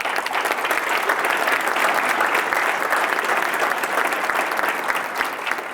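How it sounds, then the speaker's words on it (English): An audience at a city State of the City address applauds school district staff, a dense, sustained round of clapping filling the room from start to finish. "I'd like us to give them a round of applause."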